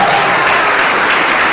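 A church congregation applauds loudly, many hands clapping in a continuous dense roar that holds steady from start to finish.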